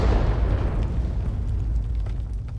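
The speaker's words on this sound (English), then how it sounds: "we're firing the shell in" Artillery shell explosion from a T92 HMC self-propelled gun in a video game, a loud sustained boom with heavy low rumble that slowly decays over a few seconds, with no voices.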